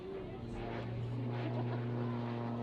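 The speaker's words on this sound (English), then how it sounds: "This little aeroplane got the engine at the front is a Jabiru." A Jabiru light aircraft's front-mounted engine runs at an air display, giving a steady droning hum with a strong low tone, heard at moderate distance and fairly quiet.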